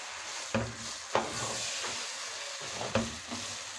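Garlic and pepper frying in a pot give a steady sizzle, with several soft scraping stirs breaking through at intervals, close and fairly quiet.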